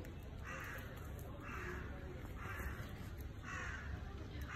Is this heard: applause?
no